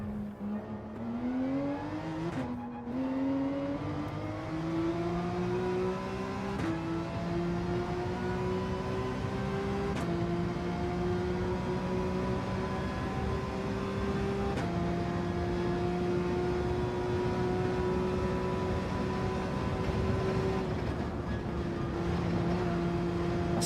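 Porsche race car in the Gran Turismo 7 racing game, its engine note climbing and holding steady through a long continuous pull with small gear-change dips, loud and steady throughout.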